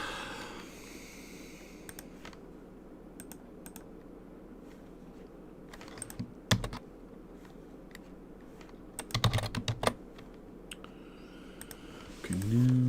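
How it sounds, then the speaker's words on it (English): Typing on a Japanese computer keyboard, scattered soft key clicks with a few faster bursts, close over a steady room hum, with occasional breathing and sniffs nearby. "it's Japanese keyboard. I got it on Amazon."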